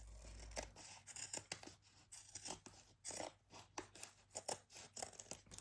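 Paper is cut to size with scissors in a run of crisp snips and crunchy cuts close by, irregular in rhythm and fairly quiet, with soft paper rustle between strokes.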